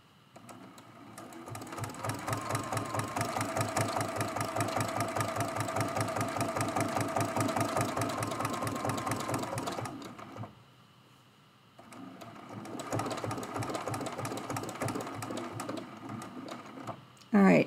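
A sewing machine stitches in quilting details on a hummingbird and flowers quilt, a steady rapid mechanical whir running for about ten seconds, pausing, then resuming close and loud.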